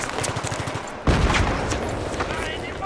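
Video game machine gun fire in a large-scale battle: a rapid rattling burst, then a heavy boom followed by sustained gunfire and rumble, with a voice talking over it.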